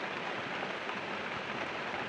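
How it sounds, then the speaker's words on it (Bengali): Steady rain falls outside in an even, dense hiss with no voices. "দেখো বাইরে কি বৃষ্টি হচ্ছে সকাল থেকেই"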